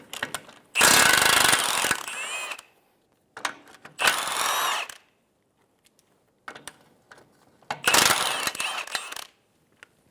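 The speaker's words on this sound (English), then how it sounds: "Using a 17mm socket, we'll remove the two nuts and one bolt out of the control arm to the ball joint." A power socket tool on a 17 mm socket removing two nuts and a bolt from a 2007–2011 Toyota Camry front lower control arm at the ball joint, sounding in three loud, close, rattling hammering bursts separated by short quiet gaps.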